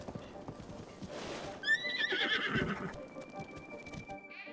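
A horse in the video game Breath of the Wild gives a loud close whinny with a quavering pitch, over soft hoof clip-clops and game ambience.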